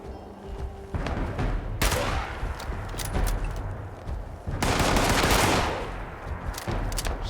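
Gunfire in the Fallout 76 video game: rapid bursts of automatic shots and scattered single cracks, some distant and some louder, over a rumbling background with occasional talk.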